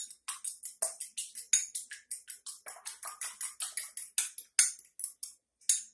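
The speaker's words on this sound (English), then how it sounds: "I'm just going to mix the egg a little bit" Egg being whisked into Greek yogurt in a bowl, a quick run of light, rhythmic clicking strokes of the utensil against the bowl, close and fairly steady with brief pauses.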